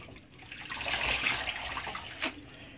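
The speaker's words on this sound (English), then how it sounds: "You want some water on them because, you're going to use that water to boil them with" Water pours from a tap over washed greens in a pot, a steady rushing splash that swells and then ebbs, close by and heard alone.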